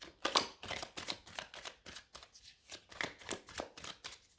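Tarot cards are shuffled and laid out, making soft, papery riffles and slaps in a quick, uneven rhythm, close and fairly quiet, with no talking.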